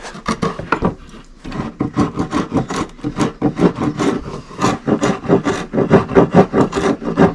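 A small block plane scallops the edge of a wooden board on a backyard pub shed bar. Quick, rasping strokes repeat in a rough, steady rhythm, close and loud, with a short pause near the start.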